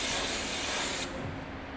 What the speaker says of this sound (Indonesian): Dibersihin dulu, disemprot-semprot ternyata.